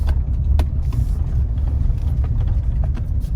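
A car rolls slowly onto a private gravel easement road in rural Missouri Ozarks country, a low steady engine rumble with tire crunch and occasional knocks and rattles close by.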